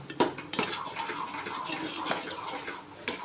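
Rava kesari with roasted cashews and raisins being stirred in a pan, a spoon scraping and clinking against the metal in a few irregular strokes, close and clear with no talking.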